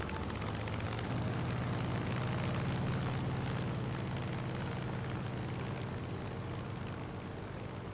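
A Grumman Hellcat fighter plane flies past with a loud, steady engine roar that fills the whole stretch without letting up.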